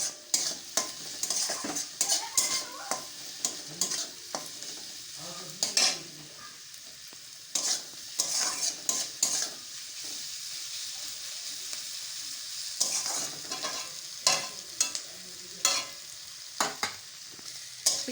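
Onions fry and get stirred in a pan for a hilsa fish-head dish, a steady close sizzle broken by frequent sharp scrapes and clinks of a spatula against the pan.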